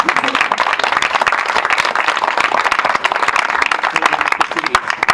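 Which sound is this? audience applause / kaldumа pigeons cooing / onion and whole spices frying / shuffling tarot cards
audience applause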